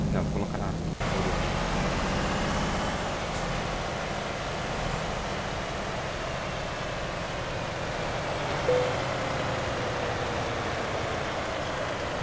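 A truck engine drones steadily while driving in Euro Truck Simulator 2, a low rumbling hum with a sharp click early on and a faint brief hiss later.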